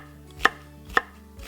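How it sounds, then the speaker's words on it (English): A kitchen knife slicing through food on a cutting board while preparing Bolognese sauce: three sharp, evenly spaced cuts, close and clear with no talk. "and then carefully slice into it"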